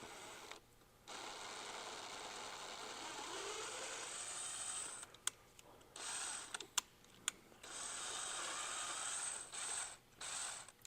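A powered driver runs a screw into a hole tapped with a 10-24 tap on a 5th gen 4Runner oversized tire fitment kit part, giving a ratcheting mechanical whir in several bursts separated by short pauses and sharp clicks.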